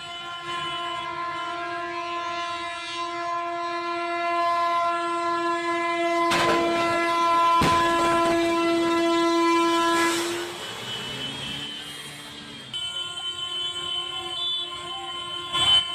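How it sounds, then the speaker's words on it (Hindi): A train horn blares again and again in long sustained blasts, loud and close, with rumbling rail noise and a screech of brakes beneath, at a rail accident on the Jasidih–Madhupur section in Jharkhand, India. "देखिए आप लगातार हॉर्न भी सुन रहे हैं"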